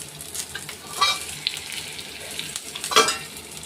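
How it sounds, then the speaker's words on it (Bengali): Pointed gourd (potol) frying in a pan, a steady low sizzle with a few brighter crackling bursts, heard alone at moderate level. "আর এদিকে পটল ভাজা হচ্ছে"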